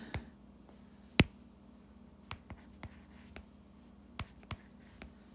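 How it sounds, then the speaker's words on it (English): Writing by hand on paper or a board while working a vector math problem: sparse soft scratches and taps from the pen, with one sharper click, close and quiet over a faint hum. "Let me see if I can write that again."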